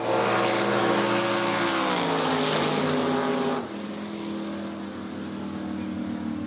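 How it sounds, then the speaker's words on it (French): A small dragster roars past at speed, its loud, droning engine rising and shifting in pitch before dropping off abruptly as it goes by, then leaving a steady lower rumble. "Il y a un dragster, un petit comme ça là, qui est passé"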